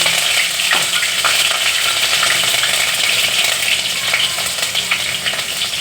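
Green chillies hit hot oil in a pan while making khatta gathiya dhokla, giving a loud, steady sizzle and fry that crackles throughout with a few sharper pops near the start.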